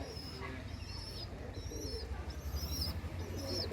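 Pigeons coo in repeated soft phrases over a steady low outdoor rumble, with bird calls scattered through and someone talking at times in the background.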